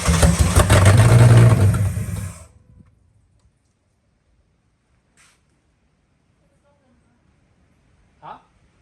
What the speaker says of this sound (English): let's turn the key and see what happens. Here we go, first startup.